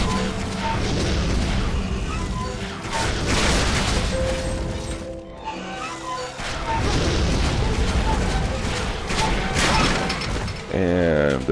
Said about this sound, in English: It was kind of interesting the way all those little gears kind of went spreading out everywhere.